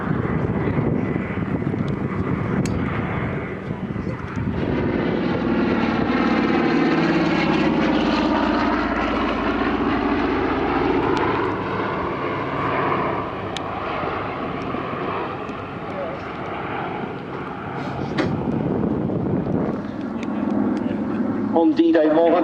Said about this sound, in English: The other 3 C-47s have climbed to height, gaining altitude, ready to make a parachute drop.